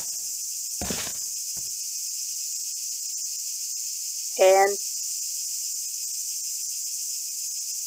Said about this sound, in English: not music, it's like crickets and stuff.